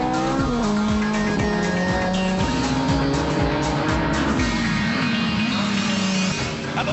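GT Cup race cars at Donington Park circuit, including a BMW Z3M Coupe and a Ginetta G20, roar steadily at close range with engine notes rising and falling through gear changes under braking, loud and continuous.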